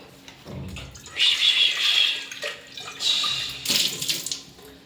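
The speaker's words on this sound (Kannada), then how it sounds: "ಕುಕ್ಕರ್ ತೊಗೊಳೋಕ್ಕಿಂತ ಮುಂಚೆ ಸ್ವಲ್ಪ ನೀರು ಹಾಕ್ಬಿಟ್ಟು ತೊಳೆದು ಬಿಡ್ಬೇಕು" Water running from a tap into a kitchen sink to rinse a pressure cooker, a steady splashing rush that swells in two bursts with brief quieter gaps between.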